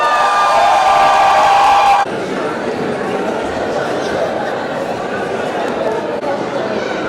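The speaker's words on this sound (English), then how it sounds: "Let's give a huge round of applause to Mr. Saurabh Jyoti." A conference crowd gives a loud burst of applause with cheers and whoops, which then settles into sustained clapping and crowd noise for several seconds.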